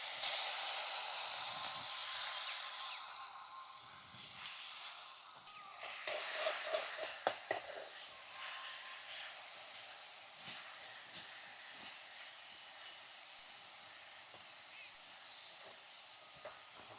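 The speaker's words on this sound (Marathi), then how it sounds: "तेल गरम चांगलं झाल्यावर त्यात मिरची टाकायची" Green chilies dropped into well-heated oil in a pan make a broad, steady sizzle and hiss throughout, swelling louder with crackling bursts partway through, with faint background noise.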